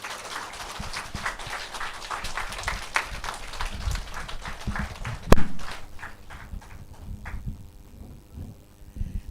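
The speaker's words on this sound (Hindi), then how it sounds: "एक बार जी खड़े होकर एक बार ताली तो बजा लीजिए।" A standing indoor audience at a training session claps in a loose, uneven rhythm, the clapping thinning out toward the end, with one sharp loud knock midway.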